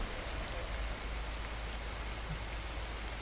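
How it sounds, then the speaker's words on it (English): Heavy rain in a truck driving video game, a dense, loud, continuous downpour hiss that stays steady throughout with no voices. "That rain is insane."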